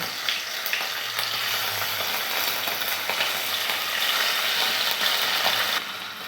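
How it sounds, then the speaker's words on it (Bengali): Puti fish fry in hot oil in a wok, a loud, dense, continuous sizzle with faint crackles and occasional light ticks throughout, no speech. "আমি মাছগুলোকে এক এক করে ভেজে নেব।"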